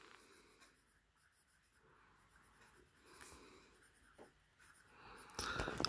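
A vintage 1956 Makeba 340 fountain pen with a medium flexible nib and skipping ink flow scratches faintly across paper in short, quiet strokes, ending with a louder rustle.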